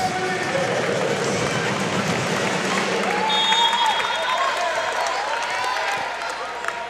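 A volleyball crowd at the Al McGuire Center applauds and cheers on its feet, sustained clapping and shouts under a commentator's voice.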